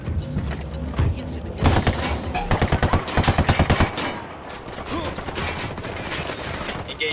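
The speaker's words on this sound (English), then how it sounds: "Shots fired." Gunfire in the Tom Clancy's Ghost Recon Wildlands shooter game during an attack on an oil rig: a loud, fast rhythmic burst of automatic shots, followed by scattered fire and commotion.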